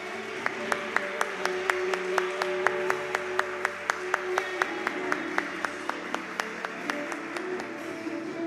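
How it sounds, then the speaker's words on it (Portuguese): A church congregation claps along in steady rhythm during a Mother's Day worship service, sharp regular beats over a sustained tone and crowd murmur, with no voices clearly standing out. "Vamos dar uma salva de palmas ao Senhor?"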